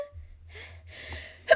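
A person sneezes indoors: a breathy intake, then a noisy burst of air, close to the microphone, over a steady low hum.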